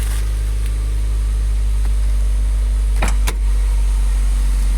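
A Mazda MX-5 Miata engine idles steadily with a low constant rumble, a couple of brief clicks or thumps breaking through near the end.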